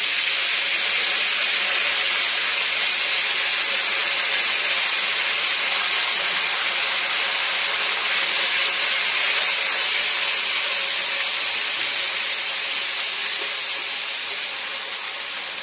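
Ginger and green chili paste sizzles in hot oil and spices in a pan while a vegetarian spicy potato dum is cooked, a loud, steady hiss that fades slightly toward the end.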